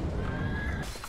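A horse neighs in a Battlefield video game, a short loud whinny over dense battle noise, with no talk.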